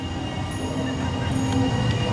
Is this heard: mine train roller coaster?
yes